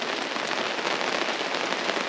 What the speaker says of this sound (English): It is just raining non-stop.